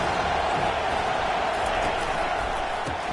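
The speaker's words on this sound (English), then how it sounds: "Decibels rising as the crowd gets behind this defense on 3rd down." Stadium crowd at a Miami vs Clemson football game, a dense, loud, continuous roar of many voices swelling on a third-down defensive stand, with no distinct gaps.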